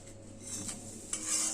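Whole spices fry in hot mustard oil for a tempering: cumin seeds, cracked green cardamom, a piece of cinnamon, dried red chilies and bay leaves. A steady close hiss of sizzling runs throughout, with a couple of brief stirring scrapes.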